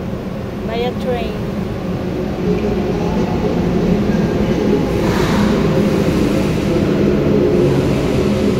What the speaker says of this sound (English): By a bullet train.